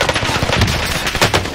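Rapid automatic gunfire from a video game bursts loudly and close for the whole moment, a dense rattling stream of shots aimed at the player from behind.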